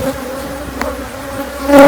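Honey bees buzzing around a hive box during a honey harvest, a dense steady drone close by that swells louder near the end, with no voices.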